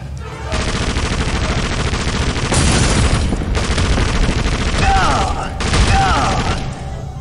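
Rapid gunfire in Indiana Jones and the Emperor's Tomb, sustained bursts of automatic shots rattling in a dense stream with brief breaks, loud and close, with someone speaking at moments.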